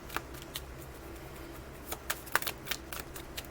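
Oracle of the Radiant Sun tarot cards being shuffled, a handful of crisp papery riffles and flicks scattered over about three seconds, close and fairly quiet against a low steady room hum, with no voices.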